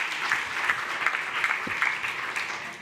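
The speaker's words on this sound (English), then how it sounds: "Huge round of applause." Audience applause at a climate policy event, a continuous dense patter of many hands clapping at moderate volume, steady from start to finish with no speech over it.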